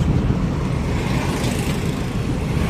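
An auto-rickshaw engine rumbles amid steady street traffic, a continuous close, loud drone without pauses.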